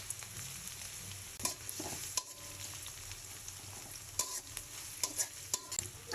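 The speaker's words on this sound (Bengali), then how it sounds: "শুরুতে দিয়ে দিচ্ছি পেঁয়াজ।" Onion frying in oil in a wok gives a soft, steady sizzle, broken by occasional sharp clicks and scrapes of stirring, heard fairly faintly and without talk.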